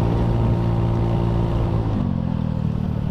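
A Honda Beat FI scooter engine drones loud and close on the road, a steady rumbling whine that shifts in pitch partway through as the rider opens the throttle.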